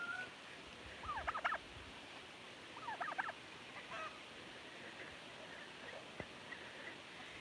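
Two distinct bursts of turkey gobbling, rapid warbling calls a couple of seconds apart, moderately near over quiet outdoor background.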